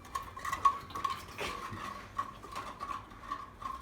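A spoon stirring coffee in a cup, with quick repeated metallic clinks against the rim in an uneven rhythm, close and fairly faint.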